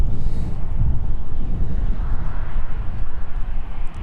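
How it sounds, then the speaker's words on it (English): A Cessna on final approach at East Midlands Airport, a loud, steady low engine rumble mixed with heavy wind buffeting on the microphone, continuous for the whole few seconds. "Cessna on final approach there."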